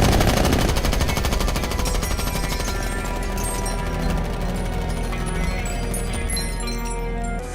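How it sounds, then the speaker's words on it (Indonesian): Gunfire from a film scene: rapid, sustained automatic bursts of close, loud shots rattling in a dense continuous volley, with clinking metallic debris near the end and no talking. "Steve dan Arthur mengambil kesempatan itu untuk menembaki Diane sampai tewas."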